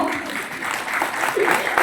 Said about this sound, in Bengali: সকলের কাছে একটু করতালি চেয়ে নেব